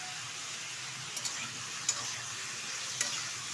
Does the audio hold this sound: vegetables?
yes